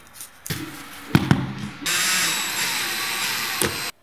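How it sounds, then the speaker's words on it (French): A power drill bores holes for skirting board clips while laminate flooring is being fitted: a few short knocks and handling bumps, then a sustained loud, close whirring drill run of about two seconds that cuts off abruptly. "perce des trous adéquats avec la perceuse"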